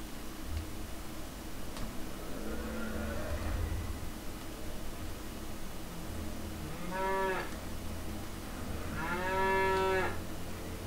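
A calf on a farm lets out two drawn-out, moderately loud moos a couple of seconds apart, over a steady background hiss.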